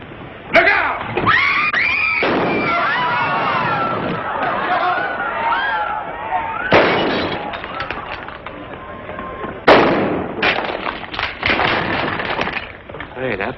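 Gunshots ring out in a western film scene, sharp bangs breaking through screaming, crowd chatter and running, with a loud burst near the start and another close shot around ten seconds in.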